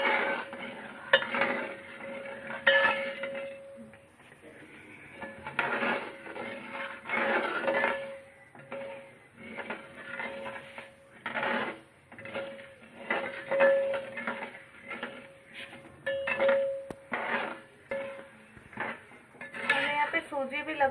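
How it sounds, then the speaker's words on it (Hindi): Semolina roasts in ghee over a medium flame while a spoon stirs it steadily, giving repeated scraping and clinking against the pot in rhythmic bursts, close and without talk. "तो इसे हम मीडियम फ्लेम पे अच्छे से भूनेंगे जब तक हमारी सूजी में कलर नहीं आ जाता"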